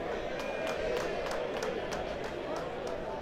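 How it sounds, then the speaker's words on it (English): Spectators cheer at a rugby tens tournament match, a steady crowd roar with scattered claps and shouts, while a commentator talks over it. "Big cheer as the spectator doesn't spill a drop of his beer as the ball hits him"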